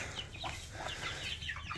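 Easter Egger chickens huddled in a flock of about eighteen make soft, continuous clucking and murmuring close by, with overlapping low calls and no speech.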